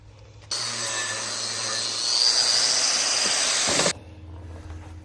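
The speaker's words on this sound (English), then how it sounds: "I'm gonna knock some of the rust off these springs." Steady harsh grinding and brushing against the rusty springs of a Brockway 361 truck, loud and close, running continuously for several seconds before cutting off abruptly.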